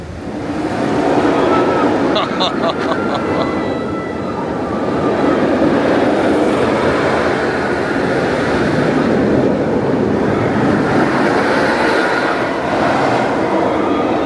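Mr. Freeze Reverse Blast roller coaster at Six Flags St. Louis roars past in a loud, continuous rumble of rushing wheels and wind, with metallic clatter and faint voices mixed into the din.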